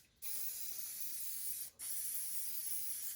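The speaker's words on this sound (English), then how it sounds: "Right, last little bit for tonight, more hairspray." Hairspray hissed from an aerosol can over OO gauge model railway scenery, two long steady bursts with a brief pause between, close and fairly quiet with no talk.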